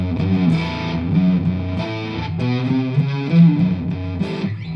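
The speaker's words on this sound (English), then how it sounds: "I'm playing a nice Telecaster" Distorted Fender Telecaster electric guitar playing chords and riffs through a Fender Tone Master Pro amp modeler, steady and fairly loud, with no voices.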